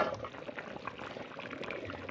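Lofa greens simmering in a covered pot, a soft continuous bubbling and gurgling of boiling liquid, close and fairly quiet with no voices.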